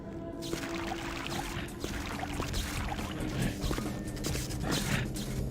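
Water flows and splashes in the vampire video game Vampire: the Masquerade - Bloodlines, a continuous dense rushing wash with scattered clicks and clunks throughout, fairly loud and without talking.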